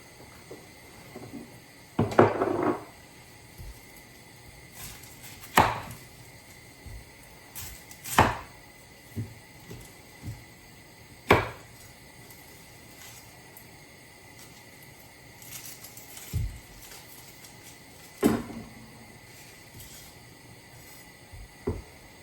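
A chef knife chops an onion on a cutting board, strikes spaced irregularly with a few quicker taps, close and fairly quiet, with no talking.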